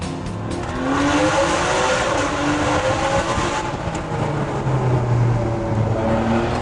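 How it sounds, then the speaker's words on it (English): A Ferrari 599 GTB's engine roars through a mountain road tunnel with the windows down, the loud echoing note rising and falling as it revs, close and dominant with no talking. "Every time you hit a tunnel in a Ferrari, you should wind the windows down and give it some stick."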